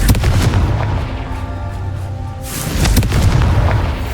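A Confringo blasting spell detonates in the Hogwarts Legacy video game, a loud booming explosion with a rumbling, crackling tail and a second burst of impact near the end, no talking.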